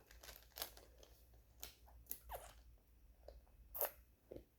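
Plastic bag being handled, scattered crinkly rustles and crackles in short bursts, close but faint, with quiet pauses between.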